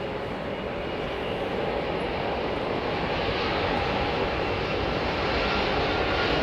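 Engines of an Embraer jet airliner at Heathrow spool up into a steady, loud roar that builds slightly over several seconds, heard from a distance outdoors.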